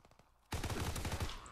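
An STG assault rifle in Call of Duty opens up in loud rapid fire after a quiet moment, a fast string of closely spaced shots rattling steadily to the end.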